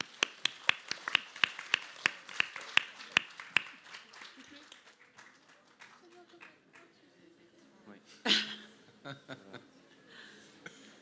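A small audience at a Series Mania 2021 cast meet-up claps for actress Victoire of Demain nous appartient, sparse distinct handclaps in a quick rhythm for about four seconds before fading into light chatter and laughter.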